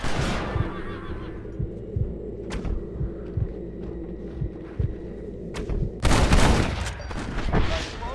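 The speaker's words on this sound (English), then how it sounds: "Okay, now we can shoot them." Gunfire in the western video game Red Dead Redemption, a string of sharp shots spaced irregularly over a steady low rumble, with a louder burst of shots near the end.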